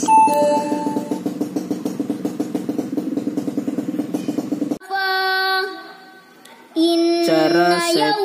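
An automatic Wi-Fi school bell plays through a speaker: a steady repeating melodic chime pattern, then brighter tonal chimes ringing out clearly and alone.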